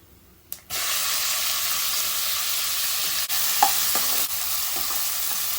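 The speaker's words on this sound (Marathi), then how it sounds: "आता आपण कांदा घालूया" Onion drops into hot oil and bursts into a loud, steady sizzle, with a few faint stirring clicks under the continuous frying hiss.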